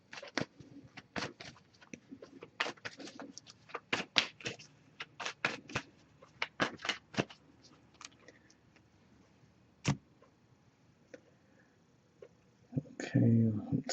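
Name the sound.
shuffling oracle cards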